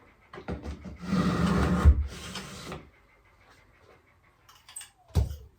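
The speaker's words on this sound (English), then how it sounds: "I'm going to move it in here, and it wrings it out" A mop is pushed into a bucket wringer and squeezed, giving a close, rough two-second burst of water squishing and rubbing, then a short pause and a sharp clunk near the end.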